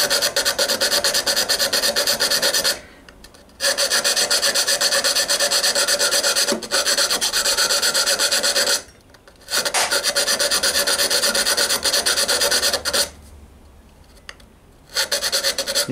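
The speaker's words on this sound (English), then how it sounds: "So I'm filing and drawing it down in that direction." A needle file rasps across decorated metal armour in long, loud, close runs of fast back-and-forth strokes, broken by three short pauses, with no voices.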